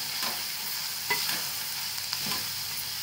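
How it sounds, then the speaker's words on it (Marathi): Onion chutney with homemade red chili powder is stirred in a pan on a low flame. A soft, steady sizzle runs throughout, with a few light scraping strokes and no speech. "आता गॅस सिमवर करायचा आणि हलवायचं छानपैकी असं"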